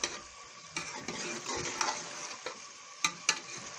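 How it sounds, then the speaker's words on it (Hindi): Potatoes and chonge (Caralluma fimbriata) stir-fried in a pan, with a steady soft sizzle broken by occasional sharp clicks and scrapes of a spoon against the metal. "अब इसको हम भून लेंगे।"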